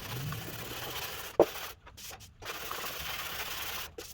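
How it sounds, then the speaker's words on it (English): A dented truck body panel is sanded by hand with sandpaper on a block. A steady, raspy scraping runs close up, broken by a brief knock and short gaps, then resumes. "I'm just sanding over the damaged area, some sandpaper on a block on the outside"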